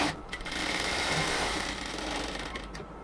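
A sewing machine runs continuously at close range while stitching the hem of cotton palazzo pants, a steady rapid whir with a slight change in pitch near the end.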